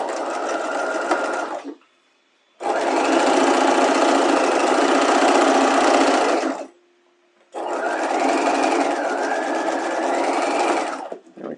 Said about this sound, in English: I'm going to sew this at a 1/2 inch, and I have wrong sides together